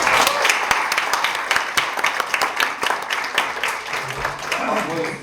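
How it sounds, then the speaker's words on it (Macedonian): A room full of people claps steadily, with dense, continuous applause and faint voices mixed underneath. "Аплауз за сите оратори."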